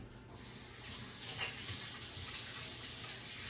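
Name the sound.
washing hands under a running water tap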